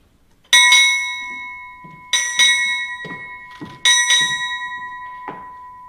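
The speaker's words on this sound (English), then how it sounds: "Strike, six bells." A ship's bell strikes six bells at a naval change of command ceremony, ringing in three paired strikes, each pair a sharp clang with a long decaying ring, loud and clear against a quiet hall.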